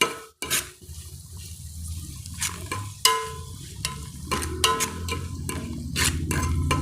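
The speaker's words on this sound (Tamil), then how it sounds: "இப்போ நாம் பூண்டு சேர்த்துக்கலாம். பூண்டையும் நல்லா வதக்கிக்கலாங்க." Garlic sautéing in oil with onions in a pan for spicy dry fish gravy, a steady close sizzle broken by scrapes and stirring clatter from a spoon against the pan.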